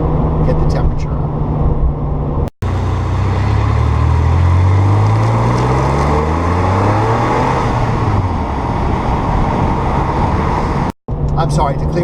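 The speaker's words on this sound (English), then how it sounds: "floor it once or twice just to clear out the exhaust" A warmed-up Porsche 993 Turbo engine is floored, its loud exhaust note climbing in pitch through a couple of rising revs, then settling back to a steady idle.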